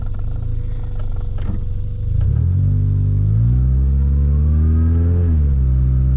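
A 1993 Honda Accord engine accelerating in second gear, a loud close-up rumble that climbs steadily in pitch after a lower idle-like drone, with no voices.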